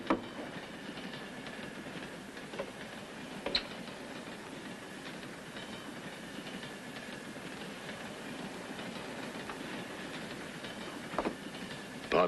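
A train rumbles steadily along the rails with faint rhythmic clacking and occasional sharp clicks, a continuous mechanical roar with no voices.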